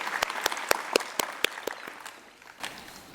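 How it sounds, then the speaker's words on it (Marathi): A small group of listeners claps for a woman being honoured at a Marathi career-achievement event, giving about eight separate sharp claps in a steady rhythm before trailing off into a quiet room. "आता या अक्षता मॅडमसाठी एकदा टाळ्या वाजवा"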